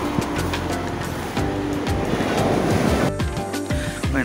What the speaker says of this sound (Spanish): Y hoy hay bastante oleaje.